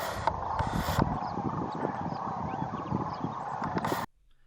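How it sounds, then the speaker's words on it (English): Sandhill cranes in California calling at sunrise as they leave their roost, a steady chorus of rolling, trumpeting calls from a flock outdoors, with a few louder nearer bursts over a dense background of more distant birds. "At the sunrise, the cranes leave their roost and fly to the feeding grounds."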